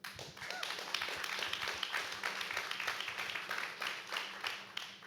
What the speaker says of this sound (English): I'm getting used to waiting for the clapping to end now